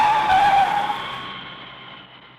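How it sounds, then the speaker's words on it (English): A bus braking to a stop with a loud tire skid, a sharp squealing screech that fades away over about two seconds, alone with no voices. "So Chuma landed the bus at the nearest house that he saw."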